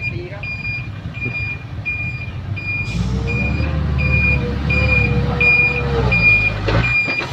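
A six-wheel truck backs up on a narrow site, its steady reversing beeps repeating evenly over a rising diesel engine rumble, with people calling out in the background.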